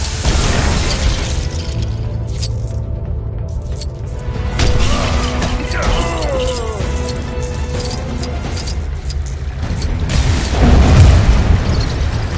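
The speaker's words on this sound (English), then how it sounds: "Another fiery explosion with more of Zod's men trying to hunt me down" Explosions boom in the LEGO Batman 3 video game amid shattering debris and mechanical clatter, loud and dense with several bursts across the stretch, a heavy blast rising near the end.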